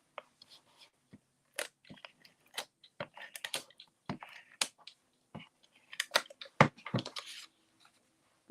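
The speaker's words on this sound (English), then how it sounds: "So I'm going to use the tape runner again." Tape runner laying adhesive onto paper pieces for a lip balm gift holder, giving quiet scattered clicks and short scratchy rasps close by, irregular with brief pauses.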